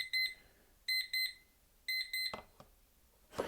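Clear, high electronic beeps come in three quick groups of double pips, followed by a couple of soft clicks.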